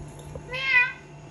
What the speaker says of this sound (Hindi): बिल्ली की आवाज